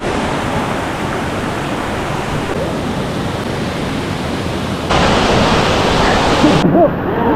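Waterfall on the Rio Negro trail in Costa Rica, a steady broadband roar of falling water close by that swells louder near the end.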